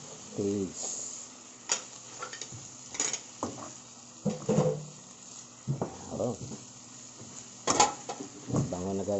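Vegetables for chop suey get stirred in a pan, with repeated clanking and scraping of a utensil against metal in uneven bursts over a light sizzle, while a voice speaks briefly.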